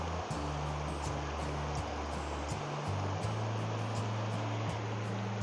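Water of the Smith Fork stream runs fast through a straightened, channelized bed past exposed Mancos Shale, giving a steady, even rush with no pauses.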